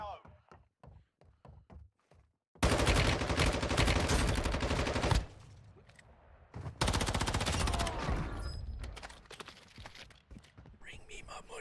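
Gunfire in Warzone Mobile on a phone: a few short taps, then two long, loud bursts of rapid automatic fire that nearly fill the scene, separated by a brief lull.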